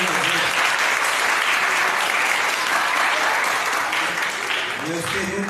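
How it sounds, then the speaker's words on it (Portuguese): Sustained applause from a church congregation, steady and dense throughout, with some voices mixed in among the clapping. "Esse aplauso"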